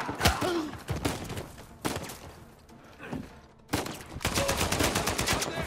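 Rifle gunfire in Uncharted 4, a sniper firing on the player, heard as several sharp cracks and thuds spread across a busy game soundscape, with a dense burst of rapid shots near the end.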